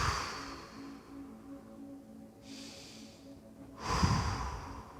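Deep, slow breathing during a hip, hamstring and glute mobility stretch, a long airy inhale followed by a heavier, louder exhale near the end, close up over a faint low background hum.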